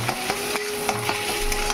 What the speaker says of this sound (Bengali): এখানে ডিমটাও ফ্রাই হয়ে যাচ্ছে